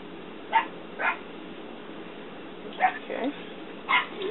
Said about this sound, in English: That's my dog outside.